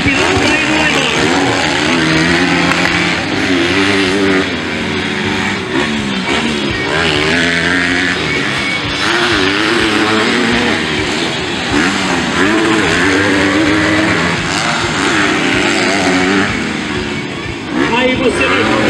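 Engines roar continuously and loudly as motocross motorcycles in the MX4 class race past, revving and shifting, with a commentator's voice talking over the din throughout.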